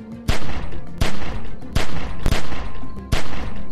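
Gunfire in The Walking Dead 400 Days video game: five loud, sharp shots spaced roughly every 0.7 seconds, close and punchy, with no talking.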